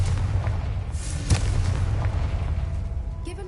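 A Confringo fire spell explodes in Hogwarts Legacy: one sharp, booming blast rises out of a low rumbling game ambience, then the background settles back.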